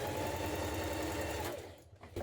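A sewing machine runs steadily, stitching the two short ends of a folded neck ruffle for a frill dress, a loud continuous whir that cuts off near the end.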